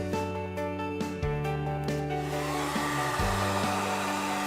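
A heat gun blows hot air onto vinyl wrap laid in a deep channel, giving a steady whirring hum with stepped pitch shifts as it moves, fairly quiet and without talking.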